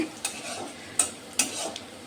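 Onions frying in a pan give a quiet sizzle broken by several sharp scrapes and clinks of a spatula against metal, with no voices.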